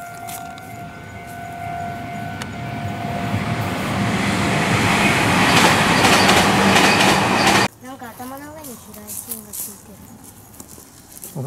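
A Meitetsu electric train rolls past a level crossing, its broad rumble and wheel clatter building loudly over several seconds before cutting off; a warning bell-like tone sounds early, and voices follow afterward.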